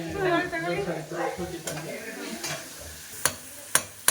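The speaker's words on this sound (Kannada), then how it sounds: "ಇನ್ನೂ ಸ್ವಲ್ಪ ಫ್ರೈ ಆಗ್ಬೇಕಾ?" Food for biryani fries and gets stirred in a home kitchen pan, a steady sizzle running under close conversation, with a few sharp utensil scrapes and knocks against the pan toward the end.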